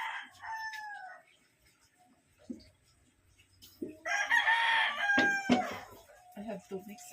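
Live chickens and a rooster crow and cluck in short bursts amid kitchen clatter, the calls rising loud and close toward the middle.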